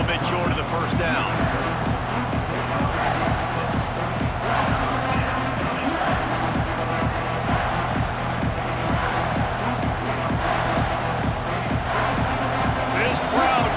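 A stadium crowd in the College Football 26 video game for USC at Nebraska roars in a continuous wash beneath steady broadcast-style commentary, with rhythmic rumbling and swells of cheering throughout.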